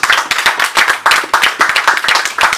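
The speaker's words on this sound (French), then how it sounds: "Donc acclamez aussi, dites Amen." A church congregation claps, with dense, rhythmic hand claps from many people close by, steady and loud throughout.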